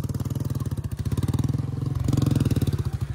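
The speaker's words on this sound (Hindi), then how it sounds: "अभी हमारा बुलेट आने वाला है ऊपर, यहाँ से पूरा ऊपर चढ़ाएंगे।" Royal Enfield Bullet motorcycle labouring uphill on an off-road slope, its single-cylinder thump steady and loud, rising in pitch and volume partway through as the throttle opens.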